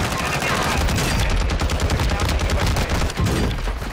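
Rapid, sustained gunfire from a video game shooter, loud and continuous with dense bursts of automatic fire throughout.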